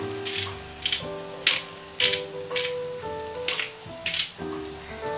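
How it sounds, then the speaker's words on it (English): Black pepper being cracked from a grinder into a garlic goat cheese Alfredo sauce: a run of crisp, rattling grinding bursts in a steady rhythm, close and fairly loud, over a faint background hum with no talk. "Some cracked pepper."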